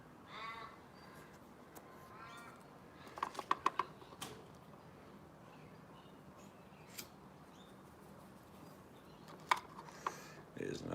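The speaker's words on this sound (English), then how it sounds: "crow, trying to be an opportunist" A crow caws outdoors in the morning, a few harsh calls early on and again near the end, amid faint mechanical clicks and quiet background noise.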